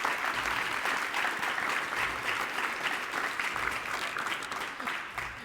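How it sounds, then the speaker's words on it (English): Crowd at a high school letter of intent signing applauding steadily throughout, a dense, even roar of clapping with voices mixed in. "which I think deserves a huge round of applause"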